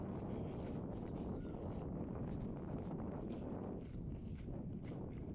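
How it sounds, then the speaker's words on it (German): Warm summer wind blowing steadily outdoors in a Siberian village near Irkutsk, a broad continuous rushing buffet against the microphone with no pauses. "Ja, der Wind zieht, aber er ist warm."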